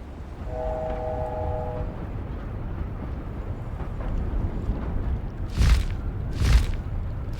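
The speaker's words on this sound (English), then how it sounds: "There's the Hogwarts Express. Must be returning from an unscheduled run." The Hogwarts Express train from the video game Hogwarts Legacy passes at a distance, a steady rumbling roll with a brief horn tone early and two louder whooshing bursts near the end.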